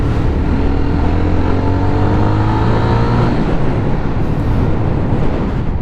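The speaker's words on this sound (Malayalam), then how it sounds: "ഇതാണ് ആക്ച്വലി ആ ഒരു ബൈക്കിൻ്റെ പുള്ളിങ് എന്ന് പറയുന്നത്" A Jawa 42 FJ motorcycle accelerates hard, its engine note climbing steadily before dropping after a gear change partway through. The exhaust stays loud and close throughout, with no talking.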